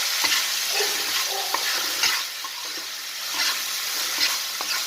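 Katla fish curry sizzles in a pan after a splash of water, with a steady frying hiss and repeated scraping and tapping of a spatula as it is stirred.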